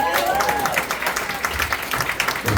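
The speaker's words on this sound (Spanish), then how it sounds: "un aplauso para el Señor" A church congregation at a charismatic prayer group meeting claps in sustained applause, dense and steady throughout with a few voices and cheers mixed in.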